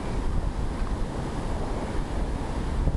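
Surf rolls onto the beach at the mouth of the Brazos River in Texas, a loud, steady wash of breaking waves mixed with wind rumble, with no voices.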